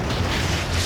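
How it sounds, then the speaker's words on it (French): A loud, deep explosion rumbles with a sustained low boom and broad roar, filling the whole short moment without voices. "Wow, quelle explosion!"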